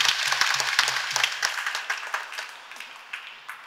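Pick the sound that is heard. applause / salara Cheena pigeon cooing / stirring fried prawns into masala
applause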